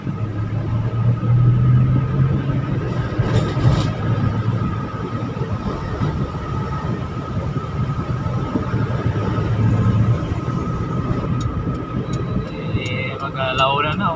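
Slow northbound highway traffic on SLEX near a flyover, heard from inside a car: a steady engine and road rumble with passing vehicles, faint clicks and a brief whine near the end, while people talk off and on.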